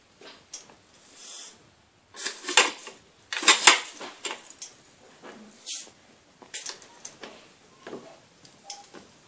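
Mustard seeds go into hot oil with sharp, irregular pops and metallic clinks of a spoon against the pan, close and intermittent, in scattered bursts over a quiet background.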